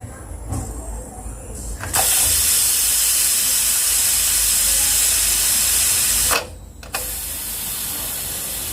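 A pressure cooker whistle on cooking dal releases steam as a loud, steady, close hiss that lasts several seconds, briefly breaks, then resumes.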